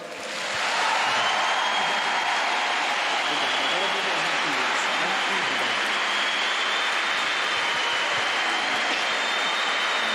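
A church congregation applauding during a Catholic sermon: a steady, dense wash of many hands clapping that swells in quickly and holds evenly throughout, with no talk over it.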